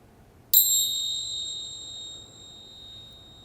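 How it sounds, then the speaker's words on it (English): A single bell struck to close a guided meditation rings out with a sharp strike and then a long, pure, high tone that slowly fades, clear and alone in a quiet room. "When you hear the sound of the bell, slowly open your eyes."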